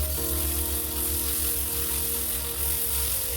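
Gongura (sorrel leaf) chutney simmers in oil on a low flame under a lid, giving a steady, soft sizzle and bubbling hiss with a faint low hum underneath and no talk.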